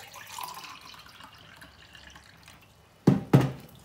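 Water poured briefly into a cooking pot for a bolognese, a soft trickle and two sharp splashes near the end, close and fairly loud against a quiet kitchen.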